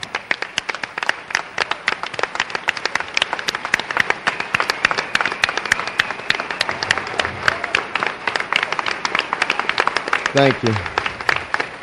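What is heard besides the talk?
town hall audience round of applause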